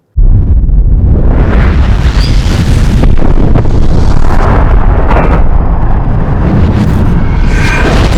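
Gunfire from an SVT-40 semi-automatic rifle, a loud, sustained roar of blasts and booming reports with wind buffeting, running continuously for about eight seconds with no talk.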